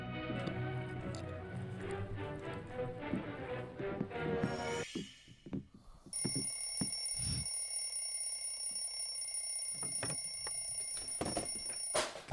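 A bright, steady alarm clock ring sounds through a movie-style logo intro, following a louder musical opening, with sustained high ringing tones that hold until the end.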